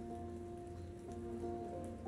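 Steady rainfall in the video game South of the Circle, soft and distant, a continuous faint hiss of drops sitting over a low sustained tonal drone.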